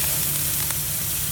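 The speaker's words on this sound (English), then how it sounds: "Look at that sizzle." Chicken hitting browned caramelized sugar in a hot caldero, giving a continuous loud broadband sizzle and hiss, close up and steady with no talk.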